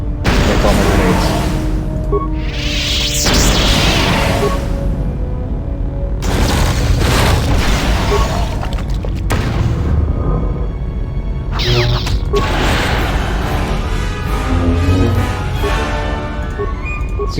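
Heavy booms and blasts from grenade combat in Star Wars Knights of the Old Republic 2, loud and repeated over dense game music and battle noise.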